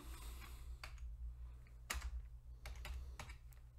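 Quiet keystrokes on a computer keyboard as a short file name is typed, a few scattered clicks and small bursts over a steady low electrical hum.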